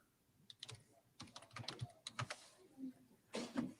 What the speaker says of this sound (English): And you can hear her typing.